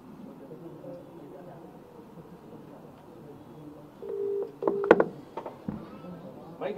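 A phone call being placed: short electronic tones and a brief steady beep sound midway, with someone talking quietly before and around them.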